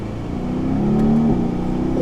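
Mercedes-AMG C car accelerating under light throttle with paddle shifters, a rising engine whir that climbs steadily then drops briefly at a shift, heard close from inside the cabin.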